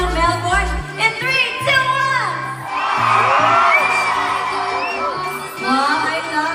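A concert crowd in Melbourne screams and cheers loudly for a singer in a big swell, mixed with music and brief shouted voices, rising to a sustained roar midway.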